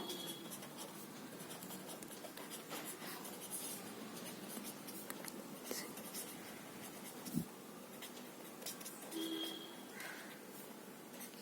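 Pen or marker writing out a maths solution on a classroom board, a steady scratchy scribble that runs through the whole stretch with small taps and pauses, close and moderately loud, with no voice over it.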